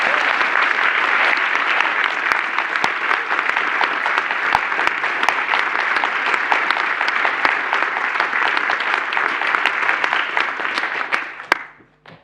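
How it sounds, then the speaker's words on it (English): Conference audience at the POPL 2024 SIGPLAN awards session gives sustained applause for distinguished paper winners, an even wash of clapping that holds steady and then fades out near the end. "Let's have one more round of applause for all our distinguished paper awardees."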